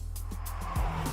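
A 2022 Mercedes-Benz C-Class pulls hard on an empty open road. Its engine note is low and steady, with a brief rising swell of revs near the end, heard close with no talk.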